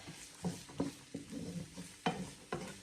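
Onions tossed and stirred in hot oil in a pan while cooking coconut rice, a soft sizzle under a series of distinct scraping stirs and clinks, about six strokes, close and fairly quiet.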